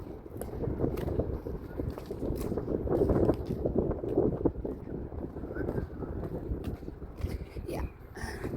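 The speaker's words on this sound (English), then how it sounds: "The wind is cold." Cold wind blows steadily across the microphone outdoors at the Taninim Stream nature reserve, a continuous loud buffeting rumble that persists throughout.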